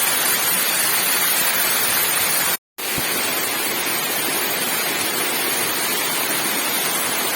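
A gentle waterfall at Chathamangalam Hills in Kannur, soft enough to shower beneath, gives a steady, loud broadband rush of falling water, broken by one brief cut to silence before resuming unchanged.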